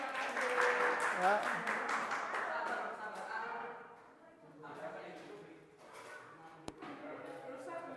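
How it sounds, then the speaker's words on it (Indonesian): Students in a physics classroom give a round of applause, a loud burst of clapping that fades out halfway, followed by quieter room noise, a single sharp tap and brief talk. "kalau nggak ada kita kasih tepuk tangan"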